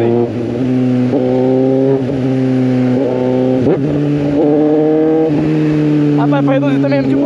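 A Suzuki GSX 750 motorcycle with only a straight pipe downshifts without the clutch, its loud engine note stepping up in pitch several times in a row, close by, as a rider talks briefly.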